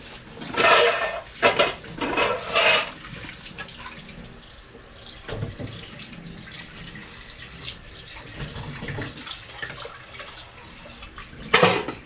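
Dishes being washed at a sink: running tap water in bursts, with clinks of plates and utensils between, louder at the start and end.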